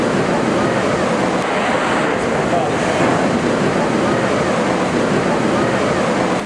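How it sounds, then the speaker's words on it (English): A steam locomotive of the Durango-Silverton train blows down its boiler while standing on a bridge, releasing a loud, steady roaring hiss of steam that holds unbroken from start to finish. "The engineer will blow down the engine on the bridge to clean out sediment from the boiler"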